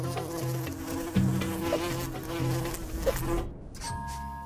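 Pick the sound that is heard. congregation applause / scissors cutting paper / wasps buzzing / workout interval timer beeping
wasps buzzing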